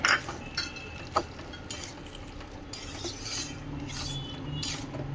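Tempering spices being stirred in a wok for a green banana curry, with a utensil scraping and clinking against the metal over a faint sizzle, in a home kitchen.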